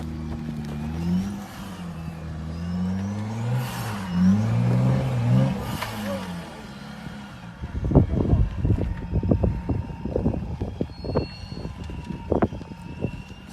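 A Jeep off-roading up a steep rocky section in the mountains, its engine droning and revving in surges, then giving way to sharp knocks and clatter of tires and body over rock, with wind noise on the microphone throughout.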